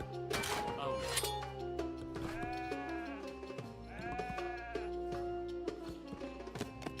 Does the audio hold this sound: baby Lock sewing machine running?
no